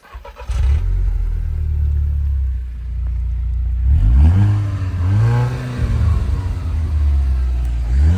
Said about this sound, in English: let's get a start up, let's take it for a ride